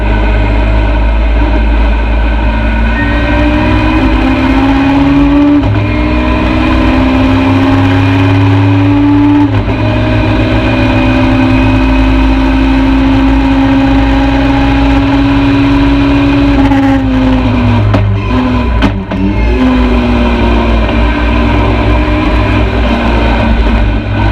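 A 1992 BMW E30 M3 DTM race car engine runs loud and close on the Nürburgring Nordschleife, holding a steady droning note that rises and falls gently through shifts, with no talk over it.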